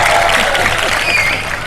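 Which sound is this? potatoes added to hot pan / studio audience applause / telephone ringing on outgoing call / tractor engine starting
studio audience applause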